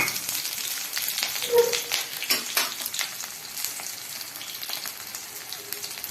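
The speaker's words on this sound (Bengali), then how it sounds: "সরিষার তেলের মধ্যে এখন দেওয়া হবে মরিচ পেঁয়াজ কুচি" Chopped chilli and onion fry in hot mustard oil in a kadai, giving a steady close sizzle throughout with a few brief clinks and stirring sounds, and no voices.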